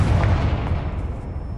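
A Confringo fire spell blasts in Hogwarts Legacy, a loud, deep booming burst that rolls out and decays over a second and a half, with no one talking.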